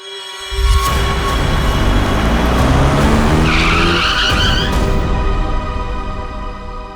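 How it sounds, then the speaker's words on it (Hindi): A car's tyres squeal loudly in a long, screeching skid on a road, roaring and sustained for several seconds with a higher whine rising midway before the noise settles as the vehicle stops. "बीच सड़क में गाड़ी क्यों रोक दी?"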